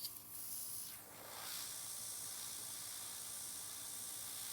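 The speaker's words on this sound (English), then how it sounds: "I'm spraying on the top." An airbrush sprays nail polish onto nails as a steady, soft hiss of air that continues evenly without a break, close to the microphone, with no talking.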